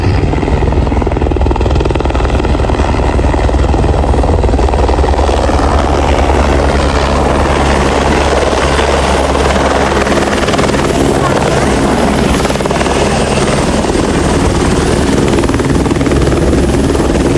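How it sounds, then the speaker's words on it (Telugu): A helicopter giving joyrides comes in to land near a college in Bhimavaram during Sankranti, its loud, close rotor roar and engine drone steady and continuous throughout, with no pause. "ఇప్పుడే ఇట్లా వచ్చినాము, హెలికాప్టర్ వచ్చింది."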